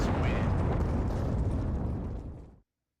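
A bomb detonates in a pro Counter-Strike match, a loud sustained roaring blast that fills the clip for over two seconds, then cuts off abruptly into silence.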